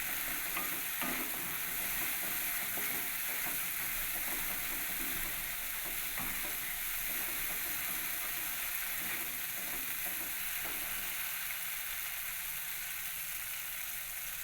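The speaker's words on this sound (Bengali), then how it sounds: "সেটাকে দিয়ে আবার কিছুক্ষণ একটু ভালো করে আমি কষিয়ে নিই।" Masala paneer spices sizzle and fry with cashew paste in a pan, stirred steadily for a long stretch, with a continuous close hiss and scraping under no speech.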